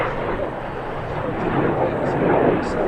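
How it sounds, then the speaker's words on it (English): An F-100 Super Sabre jet roars overhead at an air show, a loud broadband rumble that swells slightly over three seconds while a voice talks over it. "F-100 Super Sabre. That's part of the show here today. It's a very historic airplane."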